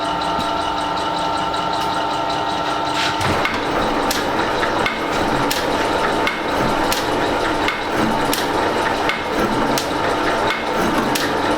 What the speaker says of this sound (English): We'll throw the clutch in and let's see if it'll do the cut or bust the tool.